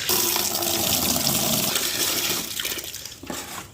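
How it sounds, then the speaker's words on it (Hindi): Water pours from a bucket onto potted plants in a steady splashing rush that thins out toward the end, close and fairly loud. "पौधों में पानी डालना तो बहुत आसान काम है।"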